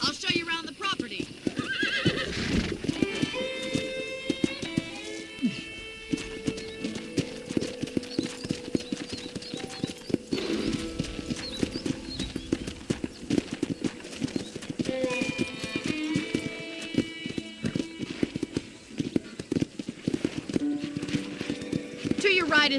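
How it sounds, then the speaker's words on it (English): A horse in the Western video game Red Dead Redemption clip-clops along at a steady rhythm and gives a few loud whinnies. Voices talk over the hooves for much of the clip. "let's see if you can still ride a horse"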